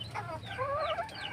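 An SBR hen, an authentic native breed from Banahaw, clucks in a short run of close, continuous calls with no talking.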